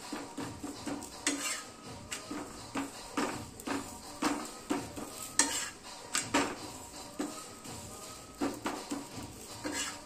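Chapati being turned over and roasted on a hot pan for a dhaba-style meal, with repeated soft scraping and clinking of a utensil against the pan in a steady rhythm, close up, under a faint background sizzle.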